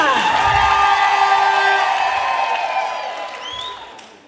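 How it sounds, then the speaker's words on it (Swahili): A crowd applauds and cheers at a community group gathering, dense clapping with whoops and shouts near and loud at first, then thinning and fading over a few seconds. "Ongeza makofi ya kutosha."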